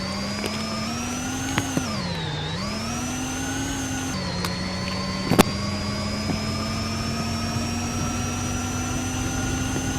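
An electric Formula E race car in a video game runs a flying qualifying lap at Monaco, giving a continuous high motor whine that dips in pitch through a corner then climbs steadily, with a few sharp clicks along the way.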